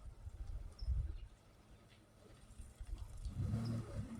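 A truck engine turning around outdoors, its mid-pitched rumble swelling, easing off, then rising again with a brief rev near the end, moderately close with faint birdsong in the background.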